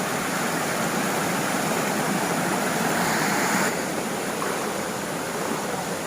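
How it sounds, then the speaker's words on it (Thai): Roar of a waterfall at a tribal village in Khammouane province, Laos, a steady loud broadband rush of falling water that continues unbroken throughout, with no voices. "เสียงก็จะรบกวนนิดนึงนะเพราะว่าเป็นเสียงน้ำตก"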